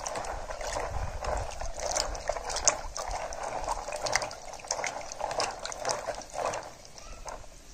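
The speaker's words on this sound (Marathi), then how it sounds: "मिठाचं पाणी करायचं आणि धुवून घ्यायची." Water sloshes and splashes in a bowl as Bengal currant berries are swished and rinsed by hand in salt water, close up and continuous, with no one speaking.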